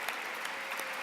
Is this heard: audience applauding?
yes